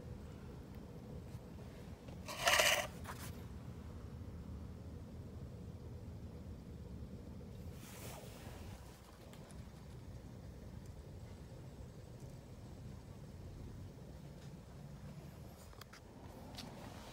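A homemade refrigerant recovery pump built from an old compressor runs with a steady, even drone. It carries on for the whole stretch, with one brief sharp burst near the start and a fainter swell partway through.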